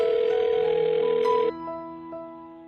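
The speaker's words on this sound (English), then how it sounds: "I'm going to dial her phone number right now" A telephone dialing a number gives a steady tone for about a second and a half, then a few short tonal beeps follow, heard fairly close and alone.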